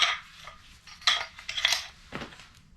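Glass items being sorted from picked-up trash for recycling, several sharp clinks and knocks in quick irregular succession, close by and fairly quiet, with no talking.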